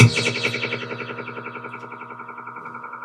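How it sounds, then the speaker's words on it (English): A dub-style echo send on a music track repeats and smears a chord into a pulsing, decaying tail. The repeats fade gradually and sound warm and slightly distorted. "You just send a little bit and you let the echo do the fun, do the work."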